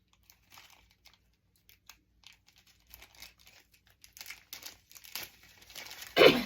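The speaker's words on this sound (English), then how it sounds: "Had a little bit of trouble opening this little bag." A small crinkly bag of dried potpourri being pulled open with some struggle: soft, sparse plastic rustles that build into louder crackling and tearing, ending in a sharp crunch.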